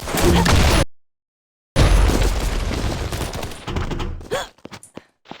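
A hand cannon fires in the first-person shooter game Combat Master, loud booming shots in quick bursts, broken by a sudden gap, then tapering into scattered sharp impacts.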